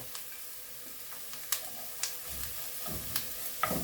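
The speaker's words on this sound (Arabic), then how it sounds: "غادي نخليو البصله تقلى لنا واحد شويه" Onion frying in a pan for savory crêpes with vegetables and seafood, a steady soft sizzle with scattered crackles and occasional stirring clicks, close and fairly quiet, with no one talking.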